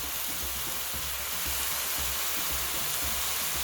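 Steady sizzling of a beef and potato stew pot as onion, organic stock cube and garlic are stirred in, a constant close frying hiss with faint rhythmic stirring scrapes underneath.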